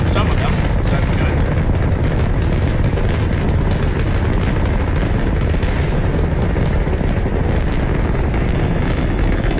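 A rocket in Kerbal Space Program gives off a loud, dense, continuous roar, with a thick broadband rumble holding at full strength for the whole stretch and no pauses.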